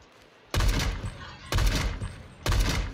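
M-107 rifle gunfire in the Roblox video game: three loud, booming shots about a second apart, each with a long echoing tail, heard alone without speech.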